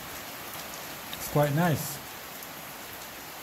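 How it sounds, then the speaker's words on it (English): Steady rain pours down around a bird's nest outdoors, a constant hiss of falling water throughout, with a brief voice speaking midway. "Rain is pouring and it's pouring,"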